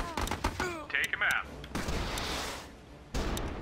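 Battle gunfire from the video game Battle Islands, a dense mix of shots and bursts running throughout, with a louder crack near the start and another towards the end.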